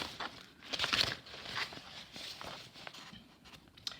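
Paint-decorated paper wrapping being unwrapped from happy mail: quiet, close crinkling and rustling in short bursts, with no talking.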